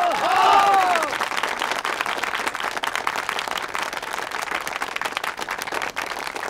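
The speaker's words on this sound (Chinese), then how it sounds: "大家鼓掌" A group applauds after a cooperative investment announcement in a Chinese village drama, a steady, dense clapping that holds evenly throughout, with a brief tonal swell near the start.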